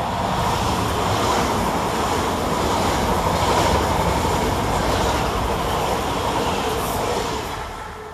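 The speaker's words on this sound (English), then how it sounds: "Whilst going in the opposite direction on the slow line for TfL Rail is 345034, working 9 Romeo 42 from Abbey Wood to Reading." TfL Rail Class 345 unit 345034 passes on the slow line at Hanwell railway station, a loud, steady rumble and rush of wheels close by that holds for several seconds before easing off at the end, with no voices.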